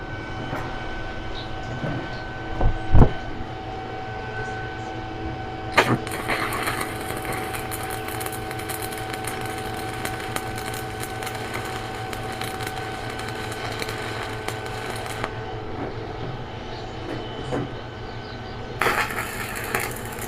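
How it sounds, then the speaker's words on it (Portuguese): Steel parts for a handmade bar clamp are welded. A sustained, loud crackling hiss runs in long bursts over a steady background hum, broken by brief clanks and pauses. "Então vamos entrar fazendo a solda aí agora."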